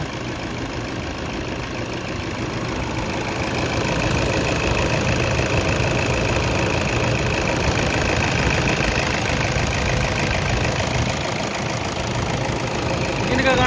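A 2015 Toyota Innova diesel engine idles steadily nearby, a continuous rumbling chug with a slight knock that grows a little louder partway through.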